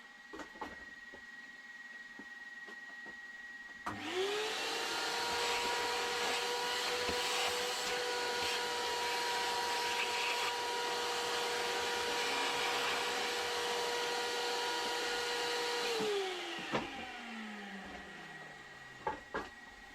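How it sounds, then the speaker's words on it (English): A vacuum cleaner starts up, roars steadily for about twelve seconds as it hoovers up debris, then winds down, loud and close. "I'm just going to take a minute to hoover up that stuff."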